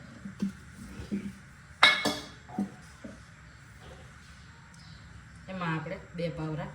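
A pan is set down on a gas stove in a home kitchen, with a sharp metallic clank among a few lighter knocks and clinks, and someone talks in between.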